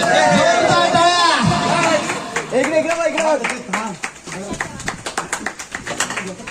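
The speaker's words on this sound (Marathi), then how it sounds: "जोरदार टाळ्या" At a family picnic prize-giving for group games, a crowd bursts into brisk clapping. It sounds close and lively and follows an announcer's voice, with the applause carrying the rest of the moment.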